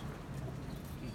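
Soft cooing of pigeons in a coop blends into a steady low murmur, with a faint hiss of background noise throughout.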